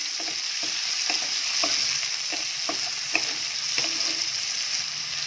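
Onions frying in leftover fish-frying oil with cumin, fenugreek, dried chilli, bay leaf and whole garam masala for a fish curry, a constant close sizzle with regular spatula scrapes roughly every half second, no speech.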